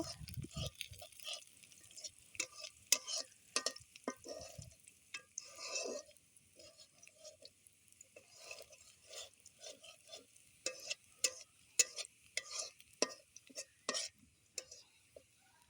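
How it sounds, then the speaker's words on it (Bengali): Chopped onions being stirred and fried in a pan for a homemade pasta dish, with intermittent scraping and clinking from the spoon over a faint, patchy sizzle, close by and fairly quiet. "এখন এগুলোকে ভালো মতো নেড়ে ছেড়ে নেব আর পেঁয়াজ কুচিগুলোকে আমি ভালো মতো লাল লাল করে ভেজে নেব"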